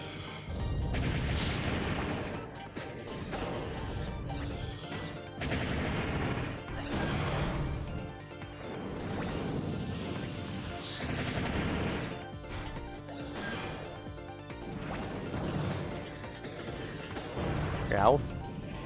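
Three-way gun fired in Custom Robo: Battle Revolution on GameCube, a series of crashing bursts spread through a hectic match, with talk running throughout.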